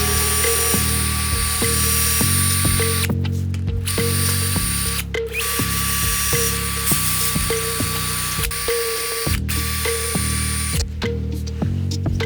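A power drill whirs and grinds through hard 3D-printing resin blocks with a 6.8mm bit in several long bursts, pitch shifting as it bites, with brief pauses between runs.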